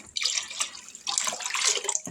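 Water splashes from a container into a pickling lime mixture in two short bursts, close and fairly soft.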